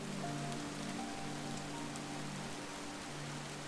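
Steady rain falls on surfaces, a continuous dense patter with a soft hiss that holds even and close throughout, with no voices.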